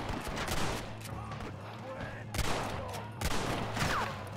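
Gunfire in the Western video game Red Dead Redemption on Xbox 360: sharp shots and a rattling volley recur across a noisy game scene, with game speech and ambient noise underneath.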